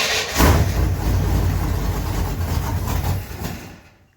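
A Chevrolet Camaro Z28 under restoration rumbles with a deep, rough exhaust note, loud and close, holding steady for a few seconds before cutting off abruptly.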